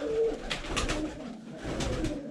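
Pigeons coo steadily and close by in a loft, soft throaty calls repeating in rhythmic pulses with no talk over them.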